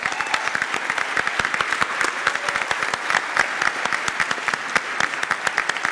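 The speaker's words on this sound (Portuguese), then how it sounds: "fique de pé e vamos saudá-los com uma salva de palmas" A church congregation applauds its Boa Vista members at an anniversary service, a steady, moderately loud patter of many hands clapping with sharp individual claps standing out, no talk over it.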